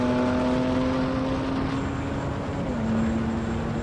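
A BMW M3 Touring pulls hard at full throttle in a drag race against an AMG C63 S Estate, its engine a loud, steady roar with a rising harmonic that shifts pitch once as the gearbox changes up, no voices over it.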